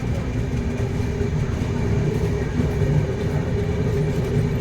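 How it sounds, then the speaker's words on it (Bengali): The 13145 Kolkata–Radhikapur Express pulls out of Katwa, a steady, loud, low rumble of rolling wheels and carriage noise that continues evenly from start to finish. "কিছুক্ষণ দাঁড়ানোর পর কাটোয়া থেকেও ট্রেন ছেড়ে দিয়েছে"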